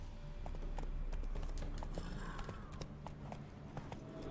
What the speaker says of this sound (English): Vamos en el caballo.